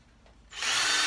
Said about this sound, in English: drill in there.